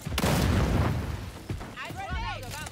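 A grenade going off while fighting a T-rex in a shooter game, a sharp loud blast with a rumbling tail, followed by a couple of smaller thuds and a creature's warbling cry, with a voice over it.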